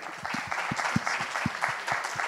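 An audience at a Corsican rainwater-harvesting and water-transfer presentation applauds a speaker, a steady wash of clapping with a few heavier low thumps mixed in, lasting a couple of seconds.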